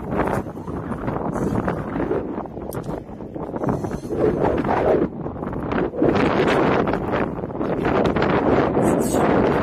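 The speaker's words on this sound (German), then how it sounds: "Ich hasse den Wind." Strong wind buffets the microphone in a steady, roaring rush for the whole stretch, with broadband gusts surging and easing and no voices heard.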